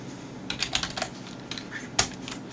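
Keystrokes on a computer keyboard while terminal commands are entered, a short irregular burst of crisp taps followed by a single louder key strike, close and alone.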